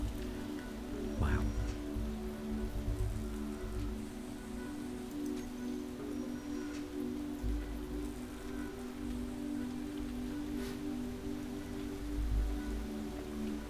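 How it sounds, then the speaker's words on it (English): Rain falls in the video game Space Engineers, a steady hiss of drops on surfaces over a constant low hum, with a few faint distant clicks and no voices. "And it's raining."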